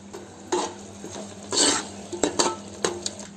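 A spoon stirs and scrapes through a garam masala gravy in a metal cooking pot, a few separate clanks and scraping strokes over a faint sizzle, close and moderately loud.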